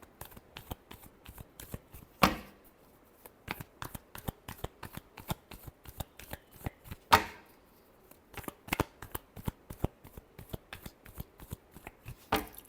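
Tarot cards are shuffled by hand in rapid crisp riffles and flicks, with two louder slaps standing out, close and alone without talk.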